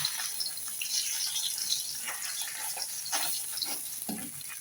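Bata fish frying in a pan gives a steady, bright, hissing sizzle with faint spitting crackles, close and continuous without talk.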